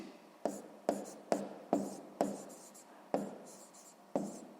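Pencil or pen strokes scratch across notebook paper during a sixth-grade maths exercise, in a rhythmic series of about eight short rasping bursts, each sharp at the start and trailing off, close and fairly quiet.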